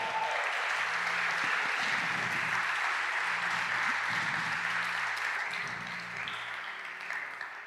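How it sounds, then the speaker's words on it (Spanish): Sustained applause from a church congregation fills the room, a steady loud wash of many clapping hands that slowly tapers near the end, with faint voices underneath. "Dele palmas al Señor por eso."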